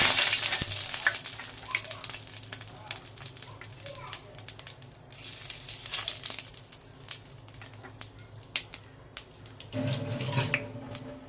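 Whole garam masala spices dropped into hot oil in a wok, a crackling sizzle with scattered spitting pops that rises again near the end, under occasional talk.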